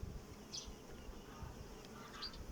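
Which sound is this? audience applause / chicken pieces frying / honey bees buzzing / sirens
honey bees buzzing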